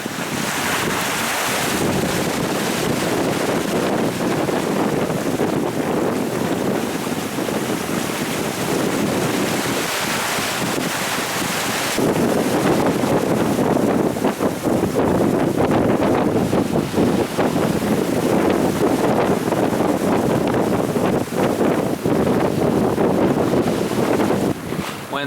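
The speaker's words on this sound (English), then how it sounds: "Wind's around 23 knots" Strong wind of about 23 knots roars across the microphone aboard a sailboat off Florida's panhandle in building seas, with loud continuous gusting and rushing water throughout.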